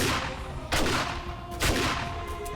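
Shotgun in the 7 Days To Die video game firing rapidly, two loud blasts about a second apart, each with a sharp crack and decaying tail over a steady background of in-game ambience.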